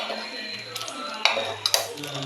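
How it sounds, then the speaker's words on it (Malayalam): A spoon stirs moru curry, a buttermilk curry, in a pot over the flame, with a few sharp metallic clinks against the rim over a soft bubbling background and a quiet voice. "തീ ഒരൽപ്പം കൂട്ടി വെച്ചുകൊണ്ട് നന്നായിട്ട് ഇളക്കണം"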